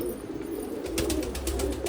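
Pigeons in a loft coo in low, soft throaty tones, a steady murmur with a few rising calls at moderate distance.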